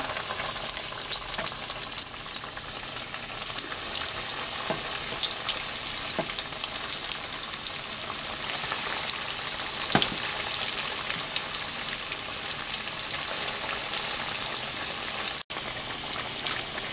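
Chicken cutlets, several at once, fry steadily in hot oil, giving a close, continuous bright sizzle that holds for the whole stretch with only small crackles and no talking.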